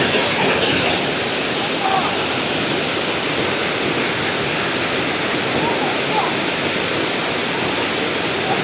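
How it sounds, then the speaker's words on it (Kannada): Kaundinya river water pours over the spillway of a large lake, a steady broadband rush like a waterfall that holds constant and close throughout, with no voices over it. "ಎಷ್ಟು ಸುಂದರವಾಗಿ ನಮ್ಮ ಕುಂಡಿಯ ನದಿ ಹರಿಯುತ್ತಿದೆ ಓಡಿ ಹೋಗ್ತದೆ"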